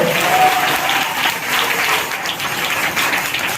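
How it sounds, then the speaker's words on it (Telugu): A church congregation, standing, claps loudly together, producing dense sustained applause that fills the hall evenly for a few seconds with a faint crowd murmur beneath. "లేచి నిలబడి గట్టిగా చప్పట్లు కొట్టండి."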